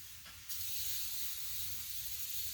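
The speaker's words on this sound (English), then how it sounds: "I'm going to spray down my shoulders." Starch sprayed onto the shoulders of a MARPAT camouflage uniform blouse on an ironing board, one sustained close hiss that starts after a half second and runs to the end.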